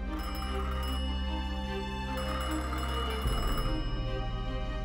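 Internal telephone of the Titanic ringing as part of a museum exhibit soundtrack, a continuous electric bell tone over a sustained low hum that cuts off partway, steady and moderately loud with no speech.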